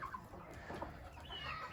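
Hens clucking softly in a coop, a mother hen with her chicks among a mixed flock, faint and distant with scattered short chirps and murmurs, no speech.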